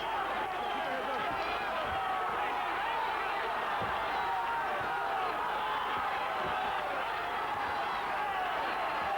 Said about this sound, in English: Listen to this Sheffield crowd.